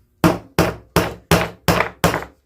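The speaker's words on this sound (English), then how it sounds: "go ahead and nail these on in" A hammer drives nails into a wooden flower planter with six evenly spaced, sharp, close blows, each thud decaying quickly, with no talking.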